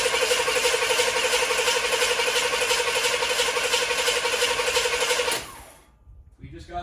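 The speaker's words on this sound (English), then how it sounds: "Give the starter a quick rest and some more." Starter cranking on a 1964 Chevrolet Impala: a loud, steady, rhythmic whirring churn for about five seconds that then cuts off, leaving near silence.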